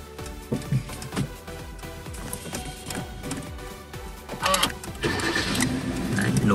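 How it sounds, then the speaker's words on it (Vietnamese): A 2009 Kia Cerato 1.6 automatic's engine cranks briefly and catches, then settles into a steady idle that grows louder, while people talk over it. "Tôi sẽ nổ máy này."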